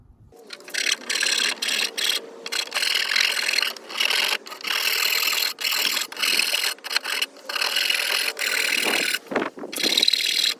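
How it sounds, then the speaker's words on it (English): Hand sanding and filing along freshly cut wooden edges of a corner shelf: steady, close rasping strokes in rhythmic bursts with short pauses between them, no voices. "I will be sanding and filing everything that I've cut"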